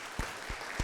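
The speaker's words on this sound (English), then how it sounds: "give yourselves a round of applause" Audience applause after a talk, a dense wash of clapping with a few louder bursts standing out, fairly distant and steady through the short stretch.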